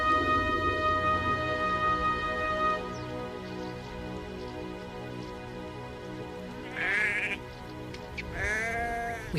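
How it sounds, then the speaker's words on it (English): Sheep bleat on a hillside farm, with a drawn-out nasal call at the start and two sharper bleats near the end over a steady background hum. "They're sheep."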